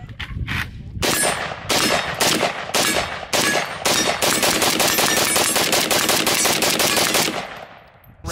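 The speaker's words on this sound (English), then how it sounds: "This is the first time shooting the gun that Brandon built for me." Close, loud AK rifle fire outdoors: a few quick single shots, then a long run of rapid, evenly spaced cracks with ringing, metallic echoes.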